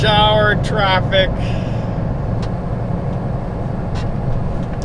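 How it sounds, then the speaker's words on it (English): Rush-hour road traffic rumbles steadily around a moving car, with broad engine and tyre noise throughout and a voice talking over it at the start. "Rush hour traffic."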